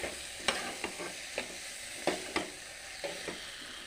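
Potatoes fry in a pan as a utensil stirs them in short, irregular scrapes, each with a brief clatter over a quiet, steady sizzle, close and fairly soft.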